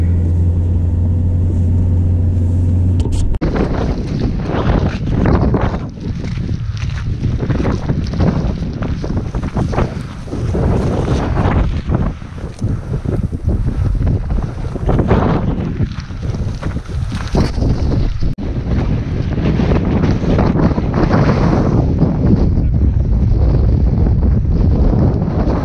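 Strong wind of about 60 to 70 mph at 900 metres in the Scottish winter hills, roaring and buffeting loudly against a vehicle while driving, a continuous dense rush with gusting surges.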